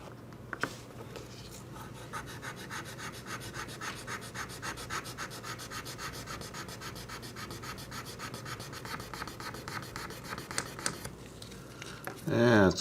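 Sandpaper is rubbed back and forth over a TootsieToy Land Rover toy during a restoration, producing a fast, even rasping rhythm that runs steadily for many seconds before a brief louder scrape at the end.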